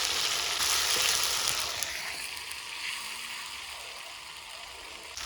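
Chopped onions going into hot oil for village-style steamed mutton, a broad, steady hiss of frying that fades slowly, close and continuous, with no talking.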